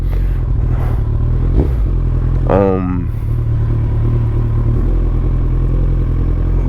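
A 2013 Kawasaki ZX14-R motorcycle engine runs close by in a low, continuous rumble that stays loud throughout, with a brief rising rev in the middle.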